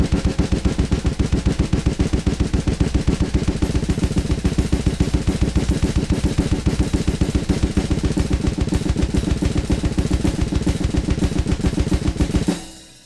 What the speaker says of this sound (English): And so it'll create a gravity blast beat